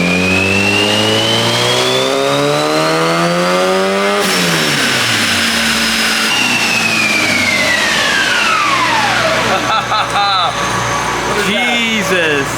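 A small-turbo Honda K-series engine in an S14 revs hard on a dyno, pitch climbing steadily before abruptly dropping and winding down in a sweeping fall, then short blips near the end; loud and close, with voices talking over it.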